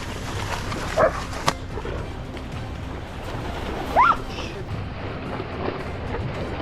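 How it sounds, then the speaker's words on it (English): Two short sharp barks from hunting dogs in a thicket ring out a few seconds apart over a steady background of wind and water noise, with a low hum underneath. "the hunting dogs began barking furiously inside the thicket"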